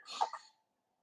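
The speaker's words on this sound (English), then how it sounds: "I just sneezed like 5 times." A person sneezes once, sharply and close, right after smelling a cigar, with a brief breathy tail and then silence.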